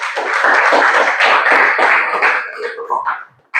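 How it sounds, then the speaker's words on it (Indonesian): Children in a classroom give a short burst of clapping, dense and fairly close, fading raggedly into scattered claps after about three seconds. "Tepuk tangan dulu buat temannya adik-adik."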